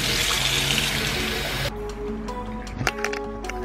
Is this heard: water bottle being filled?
yes